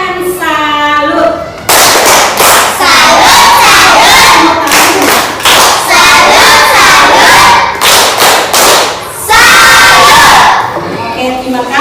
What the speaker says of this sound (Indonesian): tepuk tangan salut untuk kelompok 3. Tepuk tangan salut.